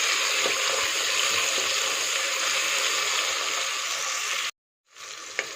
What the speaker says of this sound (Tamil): தக்காளி, கொத்தமல்லி சேர்த்து வதக்கலாம்.